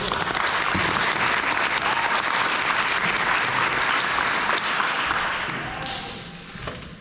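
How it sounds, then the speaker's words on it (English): Sustained crowd applause at a senior awards night, a dense, even wash of clapping that runs steadily and fades slightly near the end. "One more round of applause, please."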